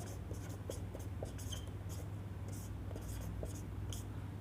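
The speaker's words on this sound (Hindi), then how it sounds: "मैं थोड़ा सा टेढ़ा लिख रहा हूं" Pen or pencil writing by hand on paper while working through a dice problem, a close, quiet, scratchy run of short strokes and pauses over a low hum.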